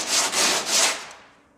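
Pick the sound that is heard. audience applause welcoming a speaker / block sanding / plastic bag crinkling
block sanding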